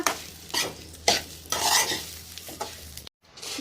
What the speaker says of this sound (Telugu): గోధుమ రవ్వ చాలా మంచిగా ఫ్రై చేసుకున్నాను